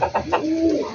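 Pet birds in a cage give soft, close cooing calls, a few short pulsed coos followed by a drawn-out low coo.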